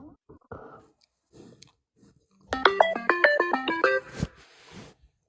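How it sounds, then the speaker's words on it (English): A mobile phone ringing with a rapid melodic ringtone, about a second and a half of stepped tones after scattered quiet rustling, close and clear in a quiet room. "See, there goes your phone."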